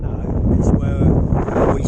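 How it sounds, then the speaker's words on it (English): Steady wind buffets the microphone at a campsite beside a VW T2 camper van, a dense low rumble that stays fairly constant for the whole stretch. "We can probably hear the wind."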